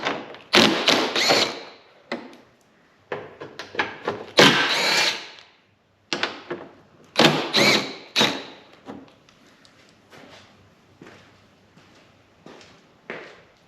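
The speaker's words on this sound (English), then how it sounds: "go ahead and remove these 3 10mm bolts" A power tool spins out three 10mm bolts from a Lexus GX470 truck, delivering repeated short bursts of buzzing with pauses and thumps in between, close and fairly loud.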